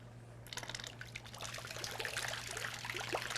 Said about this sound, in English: I love the tranquility of having the waterfall sound